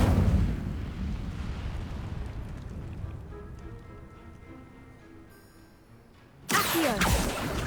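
Incendio fire spell cast in the Hogwarts Legacy video game, a rumbling whooshing blast that fades away, then a sudden loud bright burst near the end.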